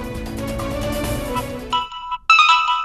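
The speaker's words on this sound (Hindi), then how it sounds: "कम से कम उसके फोन की घंटी तो बजती है" In a Hindi TV serial, music fades out and an electronic phone ringtone begins, a bright repeating melody of chiming tones with short gaps between phrases.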